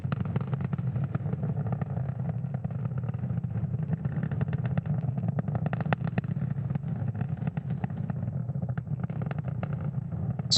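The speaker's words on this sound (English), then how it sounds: "the M1D engines on the first stage are about to throttle down in preparation for max Q" Falcon 9 first-stage Merlin 1D engines roaring during ascent toward max Q on a Starlink launch: a steady, dense low rumble with crackling texture, continuous and unbroken throughout, heard distantly through a broadcast feed.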